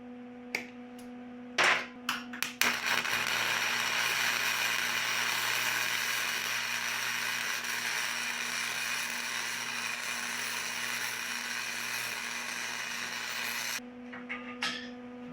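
Flux core wire welding on a first pass, a steady loud crackling sizzle that holds for about eleven seconds after a few short starts and taps, then stops, with no talking.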